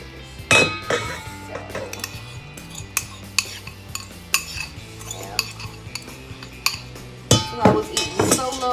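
Meat being mixed in a bowl with a utensil for stuffed bell peppers, a series of irregular close clinks and scrapes against the bowl with quiet soft mixing between them.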